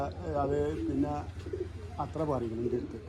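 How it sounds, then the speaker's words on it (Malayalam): A pigeon coos in rolling, throaty phrases close by, pausing and then starting again, while someone talks at the same time. "അപ്പൊ ഇതാണ് കേട്ടോ പ്രാവ്"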